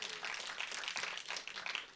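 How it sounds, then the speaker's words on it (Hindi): Applause for actor Sharad Saxena at the Son Of Sardaar 2 trailer launch, a steady two-second wash of crowd clapping, fairly faint and even, with no clear talk over it. "शरद सक्सेना साहब के लिए एक बार तालियां मारिए।"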